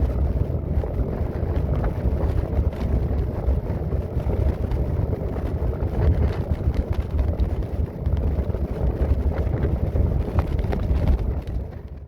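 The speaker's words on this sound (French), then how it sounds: "j'ai subi un énorme vent de face durant toute cette section" A strong headwind on a cycling route to Santiago de Compostela roars steadily against the microphone, a loud, low buffeting rumble with gusty fluctuations throughout and no voices.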